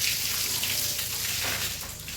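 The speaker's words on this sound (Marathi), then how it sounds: "कपिलाच्या अंगावरती पाणी मारायचं चालू आहे इथं." Water is sprayed onto a cow during a bath, a steady close hiss and splatter of running water with slight fluctuations and no talking.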